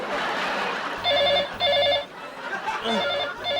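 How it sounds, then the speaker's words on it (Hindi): A telephone rings in three loud electronic bursts, close by, with short pauses between rings and no talking. "अरे यार ये सुबह सुबह किसका फोन आ गया?"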